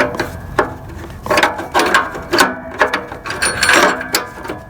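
Socket ratchet turning on the oxygen sensor of a Toyota Corolla: close, rapid clicking bursts in irregular strokes, loud and mechanical, with rubbing and tool handling between.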